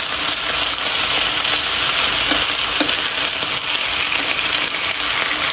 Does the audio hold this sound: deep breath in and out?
no